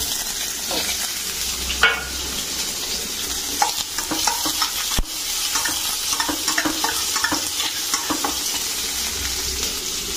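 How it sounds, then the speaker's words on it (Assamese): Pumpkin frying in a hot kadai while being stirred, with continuous close sizzling broken by irregular scraping and knocking strokes of the spoon against the pan. "ৰঙালাওখিনি এইটো কেৰাহীত বনাম"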